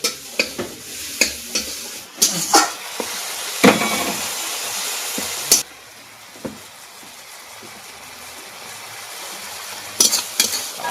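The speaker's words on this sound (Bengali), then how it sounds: "মশলাটা কষিয়ে নেব মশলাটা গুঁড়িয়ে রেখেছিলাম সেই মশলা এক চামচ দিয়ে দিচ্ছি" Ground spice mix being sautéed in a pan, with a steady soft sizzle and repeated sharp scrapes and taps of a spoon against the pan, close and without talk.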